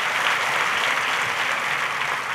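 A church congregation gives sustained, loud applause during a Sunday communion service, steady dense clapping filling the whole stretch with no voices standing out.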